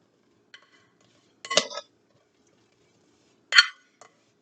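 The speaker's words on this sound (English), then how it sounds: "you will get your spoon and you mix all the ingredients together until all the ingredients are mixed in well" A spoon knocking against a bowl while cucumber salad ingredients are mixed, two distinct clinking bursts a couple of seconds apart, with faint ticks around them in otherwise quiet surroundings.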